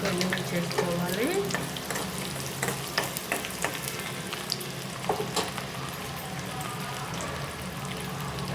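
Chopped onions and crushed garlic fry in a pan for an Andhra-style gongura tomato curry, giving a continuous close sizzle broken by frequent clicks and scrapes of stirring.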